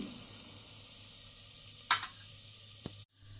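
Vegetables sizzling and being stirred in a pressure cooker for pav bhaji, with a steady low fry hiss, one sharp scrape near the middle and a small clink before the sound cuts off.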